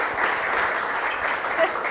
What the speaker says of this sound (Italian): L'applauso va ai due capitani che ci raggiungono, Erika e Martina.